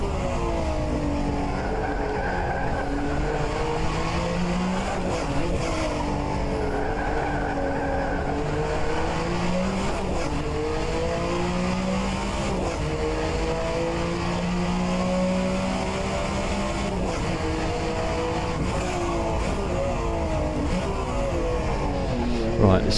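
Group C sportscar engines race around Sebring in a racing game, a continuous loud drone whose pitch climbs and falls through gear changes, with cars close by throughout and occasional tyre scrub.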